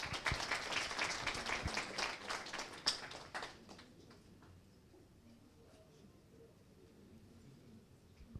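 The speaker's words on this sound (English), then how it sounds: "One more round of applause." Audience applause at an investor education conference, a dense patter of clapping for about three seconds before it fades into quiet room tone.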